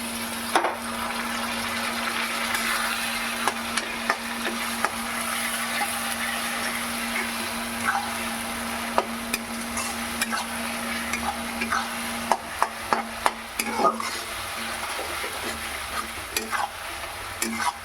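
Masala spice paste for a pomfret fish curry sizzles and fries steadily in a pan while being stirred, with scattered scraping clicks of the spatula growing busier toward the end; no voices.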